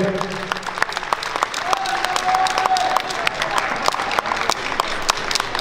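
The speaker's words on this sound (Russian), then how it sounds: "Аплодисменты финалистам старшей возрастной группы" An audience applauds ballroom dance finalists from the adult group at an open dance festival in Minsk. The clapping is loud, dense and continuous, with crowd noise and a faint voice beneath it.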